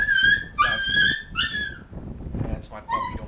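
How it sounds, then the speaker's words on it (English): A puppy whimpering close by, with a string of high thin whines and yips, some rising and falling, over light background noise. "That's my puppy, don't worry about her"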